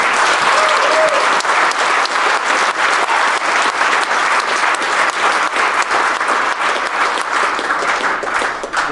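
Sustained applause from a large conference audience at a trading event, dense clapping filling the room steadily and loudly for the whole stretch, with a faint cheer or whistle near the start.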